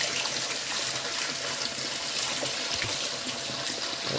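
Water gushing at full pressure from a 1.5-inch borewell delivery pipe driven by a 7.5HP motor, a steady loud hiss and splash without pause for the whole stretch.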